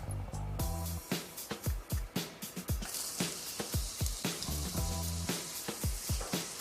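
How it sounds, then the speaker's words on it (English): Onions hitting hot shimmering olive oil in a pan, giving a steady close hiss of frying with repeated sharp crackles and pops throughout, no talking. "the olive oil is shimmering, so it's time to add my onions"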